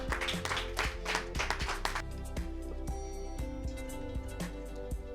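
At a kickboxing weigh-in in Dakar, the crowd applauds fighter Modibo Diarra. Dense clapping fills the room, then thins into scattered individual claps under music.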